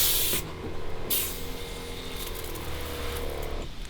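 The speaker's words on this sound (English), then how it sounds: "I'm going to first spray everything on the deck floor" A pressure washer blasts a wood deck floor during stripping and cleaning, a loud close hiss in bursts with short pauses between sprays and a steady pump drone underneath.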